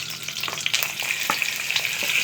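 Spice masala frying in hot ghee in a kadai, a close, bright, continuous sizzle with soft stirring scrapes and small crackles over about two seconds, with no voices.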